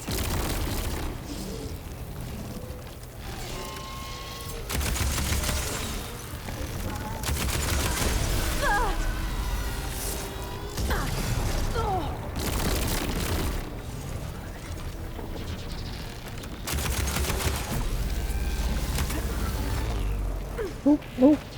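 Explosions and gunfire crash through a combat scene in Horizon Forbidden West: repeated loud booming blasts and bursts of shots come in waves over a rumbling background, with a few sharp cracks at the end.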